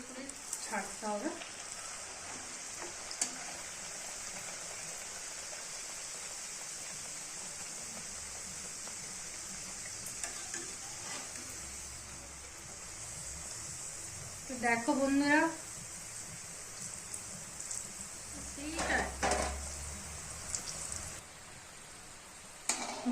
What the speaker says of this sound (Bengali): তো এরকম একটা একটা করে ভাজি,